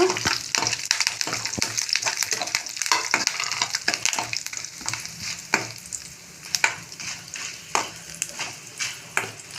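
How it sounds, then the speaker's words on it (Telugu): Curry leaves and dried red chillies crackle and sizzle in hot oil in a pan. A steady spitting hiss runs throughout, with frequent sharp pops and scraping stirs near at hand. "కొంచెం కరివేపాకు. ఇవి ఇలా వేగిన తర్వాత"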